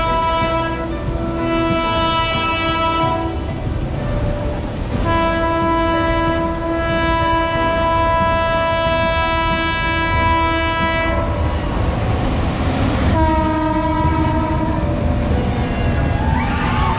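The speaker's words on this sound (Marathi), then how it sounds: "जाणारी रेल्वे" A British-era railway train crosses a bridge beside a waterfall in the Sahyadri hills, sounding long sustained horn blasts in several loud, close bursts over a continuous rumble and clatter of wagons.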